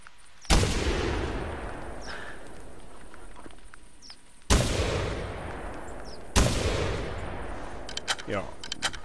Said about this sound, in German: Den werden wir mal am Boden schießen.